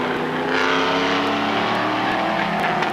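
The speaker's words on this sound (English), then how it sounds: "Corvettes with all that power carrying an awful lot of weight." Corvette race cars at Lime Rock drone past with sustained, powerful engine roar, one car's note rising and sweeping by at moderate distance, steady and loud for the whole stretch.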